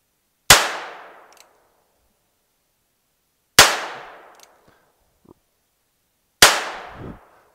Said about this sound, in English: let's fire the first six shots out of the Chiappa